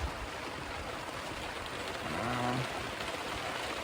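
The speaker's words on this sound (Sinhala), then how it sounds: "බලමු වැස්ස අඩුවේ" Heavy monsoon rain pours down steadily outdoors near rice paddy fields, a constant, even wash of rainfall with a faint low hum rising briefly midway.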